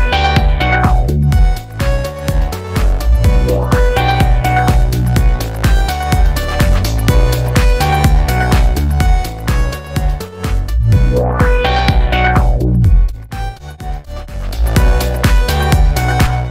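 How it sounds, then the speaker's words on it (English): A looping synth pattern is run through Logic Pro's Phat FX, its bandpass reject filter swept by LFO 2 so the tone rises and falls in repeated whooshing waves over a steady pulsing beat, loud and without talk. "I can control the amount of reject signal that's being modulated by LFO 2"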